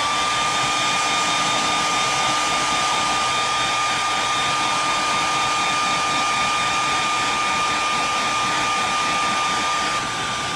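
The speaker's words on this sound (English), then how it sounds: "we're going to hit that with a blow dryer" A blow dryer dries paint on a hand-carved lipless crankbait fishing lure, running as a loud, steady whine and rushing airflow with a constant pitch from start to finish, with no voices.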